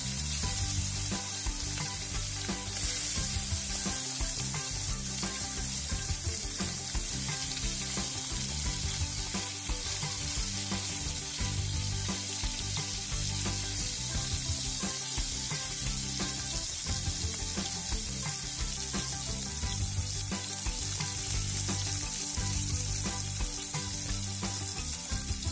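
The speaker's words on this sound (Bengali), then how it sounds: "এবার মাছগুলো একে একে দিয়ে ভালো করে ভেজে নেব।" Fish pieces fry in white cooking oil with a steady, continuous sizzle and crackle that stays even and close throughout, no voices.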